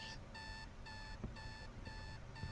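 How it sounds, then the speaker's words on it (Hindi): An alarm clock rings inside the horror game The Grudge, sounding in a steady series of evenly spaced electronic beeping bursts, moderately loud and alone with no talk. "फ़िलहाल अभी हमारा अलार्म बज रहा है"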